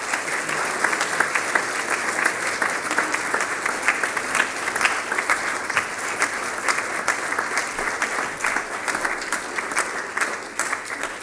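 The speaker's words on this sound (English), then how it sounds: "Let's give them a round of applause" A school audience applauds at a headmaster's end-of-term assembly, steady dense clapping from many hands filling the hall for the whole stretch, with no speech over it.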